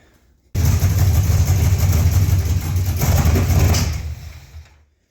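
Gasser car fitted with a tunnel ram intake and set to about 10 degrees of timing, its engine catching and running loudly and roughly for about four seconds before cutting out, close up, with no talk.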